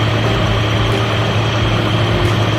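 A Toyota Crown MS65 engine fitted with an Aisan carburettor runs loud and close, giving a steady rough low drone with no clear rise in revs.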